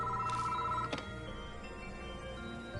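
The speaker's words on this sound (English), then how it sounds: "The phone suddenly started ringing." A telephone rings inside the Death Mark video game, a ghostly phone box sounding a short electronic ring burst over a low droning background, followed by a single sharp click and then steady ambient hum.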